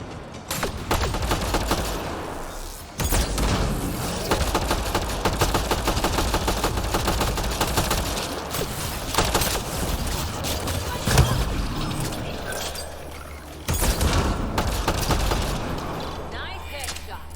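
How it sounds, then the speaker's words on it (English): Turret gunfire in the video game Mass Effect Andromeda, sustained loud automatic bursts with brief gaps and a sharp impact crack near the middle, with speech mixed in underneath. "Turret nearby, Pathfinder."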